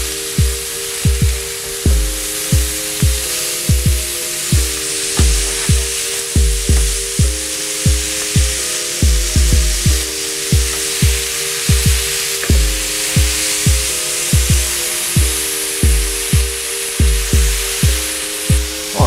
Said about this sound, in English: the burgers are now ready to flip, so we're just going to go ahead and start flipping these now